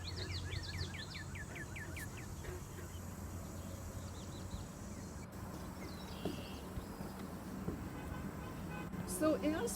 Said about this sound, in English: maybe you heard some bird calls